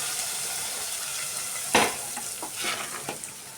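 Shallot tempering fried in hot oil and poured into chicken curry gives a sudden loud sizzling burst at the pour, then fading crackles and a few stirring sputters over a steady background hiss.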